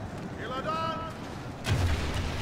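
Artillery fire in a Third Age Total War Reforged battle: a booming blast lands near the end, with a low rumble, after a quieter stretch of battlefield noise.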